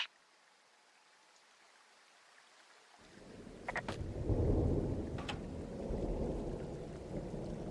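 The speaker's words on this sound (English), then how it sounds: "Got a storm coming." A storm rolls in over the forest in Firewatch: after near silence, a deep thunder rumble swells and lingers with steady rain hiss, punctuated by a couple of sharp crackles.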